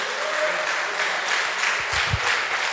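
A church congregation claps steadily during an evangelist's sermon, a dense, even wash of hand claps from a large crowd that carries on without speech.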